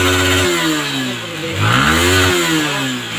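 A Yamaha Sniper 155 motorcycle engine runs steadily up close, with a few revs rising and falling over the idle after an injector was cleaned, and no talk over it.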